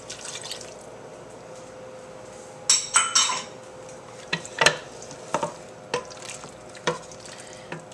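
Vegetable stock being stirred into Japanese curry in a pot, with scattered clinks and knocks of the utensil against the pot and a short sloshing burst, close and moderately loud, no talking.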